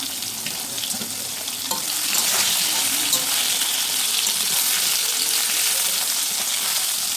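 Potato peel fritters sizzle steadily in hot oil, a continuous bright frying hiss that swells slightly after the first couple of seconds and holds close and loud, with no talking.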